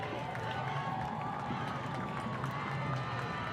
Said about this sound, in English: Rambler home crowd getting fired up.